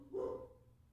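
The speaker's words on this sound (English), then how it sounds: "That's my dogger. That's a dog." A dog gives a single close, loud bark indoors, followed by quieter room sound.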